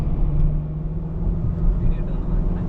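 A VW Golf GTI Mk8.5 with the EA888 engine drives in sport mode, its low engine drone and road rumble heard steadily from inside the car.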